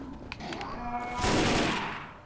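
Gunfire in Left 4 Dead 2, a loud rattling burst of rapid shots building in the second half after a few quieter pops.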